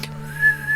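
A person whistles a short, sustained, slightly wavering high note lasting under a second, heard close and clear.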